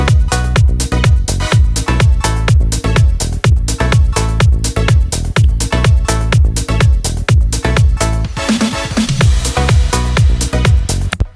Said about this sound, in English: a preset sample called Latino Trumpets